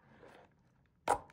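A knife slicing open the light packaging of a BOYA wireless microphone: a brief, sharp cut lasting a fraction of a second, close and fairly loud after a stretch of faint handling.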